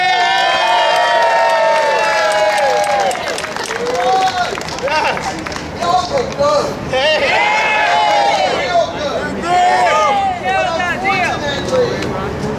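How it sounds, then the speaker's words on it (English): Crowd at a City Hall protest against rezoning cheers and applauds loudly and steadily, with shouts and whoops rising over dense clapping and babble throughout. "I want everyone to make a round of applause for Bertha Lewis"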